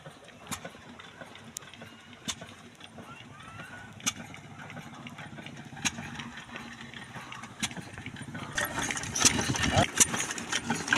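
A tractor-driven compressor engine runs continuously at a well drilling site, its mid-pitched idling drone punctuated by sharp knocks and clanks, growing louder and busier toward the end.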